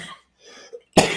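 A person coughs hard after choking, a few faint rough bursts then one loud, close, harsh cough at the end.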